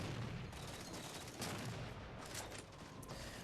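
Dense, continuous gunfire from players shooting at the king in Halo 4, a steady wash of overlapping shots with louder bursts around the middle, no voices.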